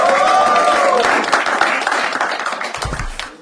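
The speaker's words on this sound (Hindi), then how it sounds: "जोर तालियां हो जाए" An audience at a stand-up comedy show bursts into loud applause, dense clapping that starts strong and gradually thins and fades, with a brief tonal sweep near the start.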